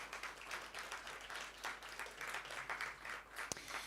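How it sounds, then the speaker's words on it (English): Scattered applause from an event audience honoring friends and partners at a conference, faint and distant, a steady patter of many hands lasting throughout with a brief sharp knock near the end. "So if I could ask for a big round of applause for our friends and partners."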